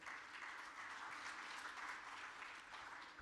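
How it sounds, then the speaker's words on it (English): An audience at an investment forum gives a speaker a round of applause, steady dense clapping that carries evenly through without talk. "Another round of applause for him."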